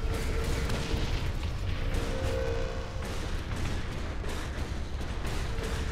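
Bombs going off in Saints Row 4, a steady low rumbling roar of blasts and crackling fire running throughout at moderate distance, with no clear separate bangs.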